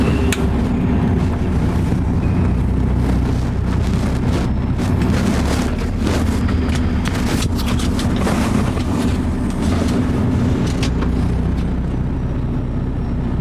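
A truck engine idles roughly in a steady, close low rumble that runs continuously throughout, with wind buffeting and scattered rattles layered on top.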